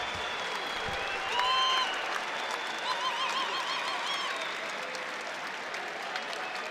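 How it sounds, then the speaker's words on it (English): An arena crowd at a college men's basketball game, Coppin State at Maryland, applauds steadily as a player fouls out, with a broad, even wash of clapping, faint whistles and cheers, and a commentator talking over it. "to a warm applause from the Xfinity Center crowd"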